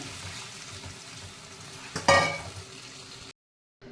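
Mashed peas stirred with a spoon into a thick tomato and onion mixture in a pan for street-style panipuri chaat, giving a steady soft scraping with a brief louder clatter partway through before cutting to silence.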